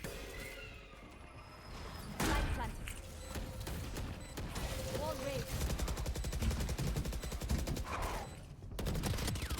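Rapid bursts of SMG fire during a fast A-site push in a competitive Valorant match, dense and continuous over game noise, with a voice talking underneath.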